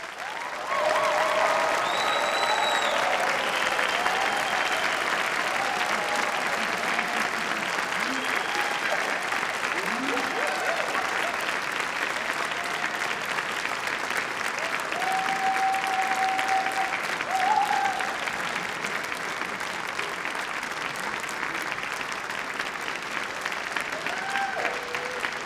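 Graduation ceremony audience at the University of Manchester giving a long, sustained round of applause, a broad steady roar of clapping from a large hall, with occasional cheers and voices rising above it.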